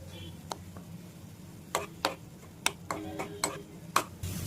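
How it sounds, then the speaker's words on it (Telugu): A pan of milk being stirred for mango kalakand, with scattered spoon clicks and scrapes against the pan that come in clusters over a low steady background hum. "పాలు పోసుకుని ఇలాగా కొంచెం సేపు కలుపుకుందామండి, మొత్తం అంతా కలిసిపోయేలాగా."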